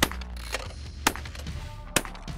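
Shotgun blasts at clay targets on an outdoor shooting course, three sharp reports about half a second to a second apart over steady background noise.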